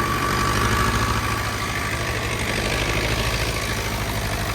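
An old tractor engine idles roughly while misfiring on some cylinders, a steady loud low chugging throb that runs continuously without talk.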